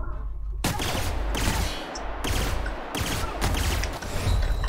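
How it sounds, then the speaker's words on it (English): Gunfire in The Outer Worlds: loud bursts of rapid shots come in several volleys separated by brief gaps, close and dense, with no voice over them. "Who's shooting at me?"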